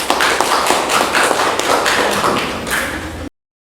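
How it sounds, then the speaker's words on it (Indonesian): A classroom of students applauds, a dense, steady burst of clapping lasting about three seconds at close range before stopping abruptly. "silakan berikan tepuk tangan"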